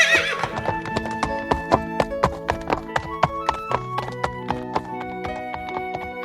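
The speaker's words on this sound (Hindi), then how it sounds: "घोड़े को छोड़ दो।" Horse hooves clip-clop in a fast, steady rhythm close by, with a loud neigh at the start, released to run toward a royal chariot in a staged palace scene.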